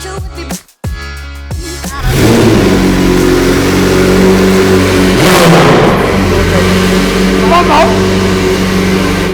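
A Ferrari 812 GTS fires up after a brief cranking stutter, then its V12 settles into a loud, sustained, close-up idle with a few rising revs, and people talk briefly at the start.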